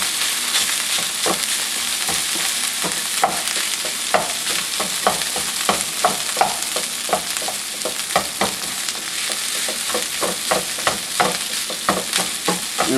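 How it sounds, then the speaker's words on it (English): Rice frying in a pan is stirred and broken up, giving a steady sizzle under a quick run of scraping, clacking utensil strokes that repeat in a loose rhythm, close and fairly loud. "We're going to break it up. You got to break the rice up,"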